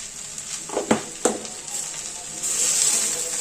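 Fenugreek leaves (methi) sauté with salt in ghee in a pan for a dhaba-style garlic methi dish. A steady sizzle runs throughout, with a few sharp stirring scrapes early on and louder frying toward the end.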